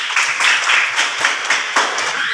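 A class of schoolchildren claps hands together in a quick, uneven patter of many palms, fairly loud and close, rising and falling in short rhythmic waves.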